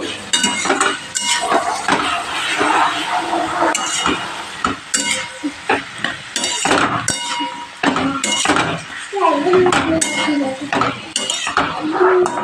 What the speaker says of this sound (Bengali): এবার আমি একটু ভালো করে অনেকক্ষণ ধরে নেড়ে নেব।